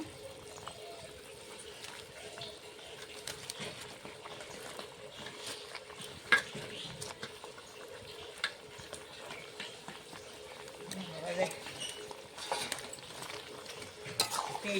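Chopped sour spinach being stirred into a boiling curry of potato, eggplant and banana flower: faint, soft stirring scrapes and gentle bubbling with scattered small clicks, low and close.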